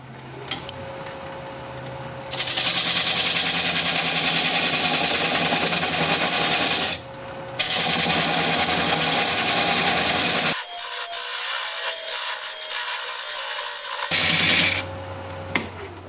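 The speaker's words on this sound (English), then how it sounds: "So I'm just going to use my parting tool to mark a bottom somewhere here." A parting tool cuts into a wooden vase blank spinning on a wood lathe to mark the bottom, producing loud, close scraping and rubbing in long stretches, with short breaks and a lower, duller passage between cuts.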